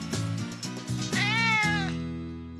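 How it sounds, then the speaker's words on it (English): Cartoon cat meowing: a single loud, drawn-out meow heard up close, rising into a bright wavering cry and then fading away, with no talk over it. "Here, kitty, kitty, kitty, kitty. Meow!"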